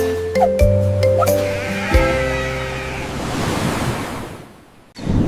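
A sheep bleats loudly up close while ocean waves surge and wash behind it, with wind rushing across the microphone; the surf swells and fades before a brief new burst at the end.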